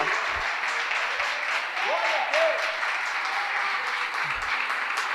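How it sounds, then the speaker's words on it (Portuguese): A church congregation at an online IEQ worship service claps for Jesus, a steady loud wash of applause, with a few low thumps and faint tonal sounds in the middle. "Dá uma salva de palmas, irmão, para Jesus"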